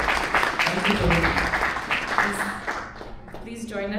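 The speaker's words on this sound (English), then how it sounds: "Let's give him a round of applause." Listeners at a Bhagavad Gita discourse clap to welcome the speaker, moderate applause mixed with talking that fades as one voice carries on.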